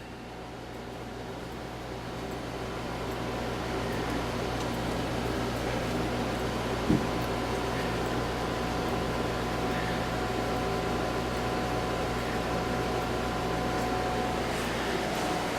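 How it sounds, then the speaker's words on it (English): Pellet stove running in a farmhouse, giving a steady, loud broadband whir with a faint hum that holds unchanged throughout, with a single brief click midway. "Have the pellet stove going."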